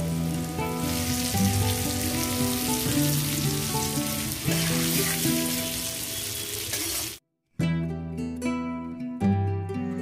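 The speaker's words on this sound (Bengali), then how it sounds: "মিডিয়াম আঁচে আলুগুলোকে আমি হালকা ব্রাউন কালার করে ভেজে নেব।" Potatoes frying in oil over medium heat while preparing mutton kosha: a steady, close crackling sizzle with faint stirring. It cuts out briefly, then the frying resumes just as loudly.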